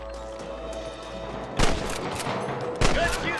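Gunfire in the Red Dead Redemption video game cracks in two loud bursts of shots, with a quieter stretch of background noise before and between them.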